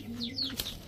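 Pigeons kept for sale cooing in a short burst: a low throaty coo followed by a few higher chirpy notes, fairly close, with no talking.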